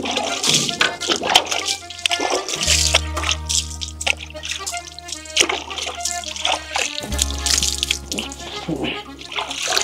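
Tap water runs steadily into a basin, splashing continuously beneath loud sustained musical tones and bursts of other noise.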